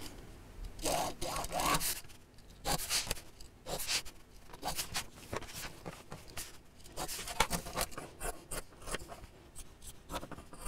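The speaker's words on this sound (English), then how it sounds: "And then cut with scissors." Scissors cut through fabric for a sewn storage box, close up, as a run of crisp snipping and rasping strokes in irregular bursts with short pauses between them.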